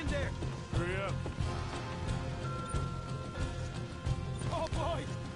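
Horses in Red Dead Redemption 2 clop and shuffle amid clattering and a brief whinny, the hoofbeats irregular and close, with voices of characters talking over them.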